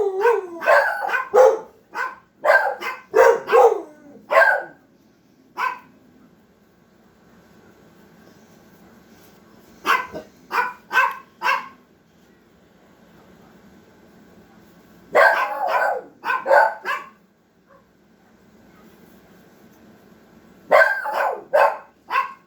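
Several dogs bark outdoors in repeated bursts of sharp yelps and woofs, separated by quiet gaps, moderately close with a low steady hum underneath.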